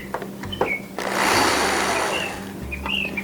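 Power screwdriver driving a screw into a hard, brittle bamboo frame, a short whirring burst of about a second and a half between small handling clicks, close and fairly loud with no talk.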